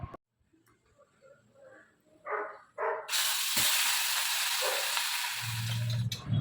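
A piece of fish goes into hot oil in a kadai. Some faint clinks and short sounds come first, then a sudden loud, steady frying hiss begins and continues to the end.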